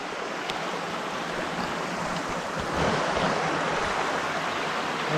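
The Muddy Fork stream on the Mount Hood Timberline Trail rushes in a steady, loud, broadband wash of flowing water, close by and continuous, with some wind noise on the microphone.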